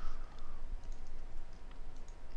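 Computer keyboard typing comes as scattered light clicks and taps over a steady room hiss, moderately close and fairly quiet.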